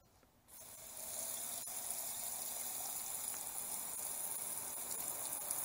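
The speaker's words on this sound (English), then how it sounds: "All right, now we'll go ahead and fill this up with water." Water gushes steadily from a tap into a garden sprayer tank, starting abruptly after a quiet moment and continuing as a constant rushing fill close by.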